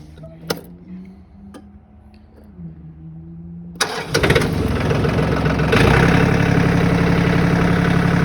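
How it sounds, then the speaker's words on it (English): A John Deere 4410 tractor engine cranks and catches, then settles into a loud, steady rumbling idle close by after a few quiet clicks. "start it up, and let's see if we can't operate the boom on this tractor."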